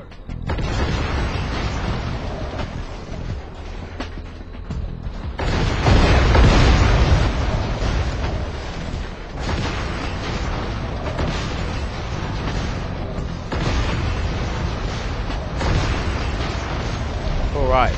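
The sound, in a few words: bomb explosions set as a distraction in SpyHunter: Nowhere to Run video game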